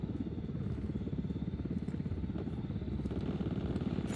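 Helicopter in the video game Ghost Recon Wildlands, a steady rapid rotor chop with fast regular pulses, moderately faint and continuous throughout.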